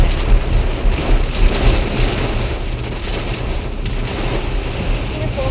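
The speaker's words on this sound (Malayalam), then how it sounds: "അടിപൊളി മഴ." Heavy rain pours down in a dense, steady roar with no letup, loud and close, with a rumbling low end.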